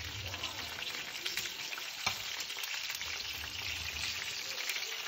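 Breaded chicken wings fry in hot oil with a steady, dense crackling sizzle, plus a brief louder pop around the middle, heard alone without talk.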